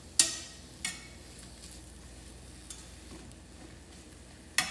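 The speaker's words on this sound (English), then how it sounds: "So right now I'm just going to stir these around so they get plenty of that seasoning on them" Mushrooms with seasoning being stirred in a pan, giving a few sharp scraping clicks spread apart over a faint, low sizzle, with no talking.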